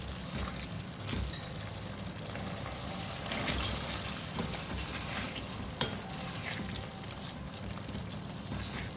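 Whisked yogurt is poured into mutton keema karahi sizzling in a pan, with a steady frying hiss, scattered spatters and occasional stirring scrapes, and no talking.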